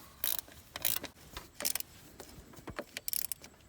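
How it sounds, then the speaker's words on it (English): Quarter-inch drive ratchet turning bolts on a Volkswagen/Audi 1.8T cooling flange, quick clicking bursts in short irregular runs, close and fairly quiet, no talking. "Now fit the 1/4-inch drive ratchet in here and I'm putting them in the rest of the way."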